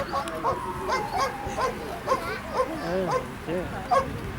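A West Midlands Police attack dog performs in a demonstration at an outdoor fun day, giving a run of sharp barks and yelping whines at close range, mixed with crowd noise and talk.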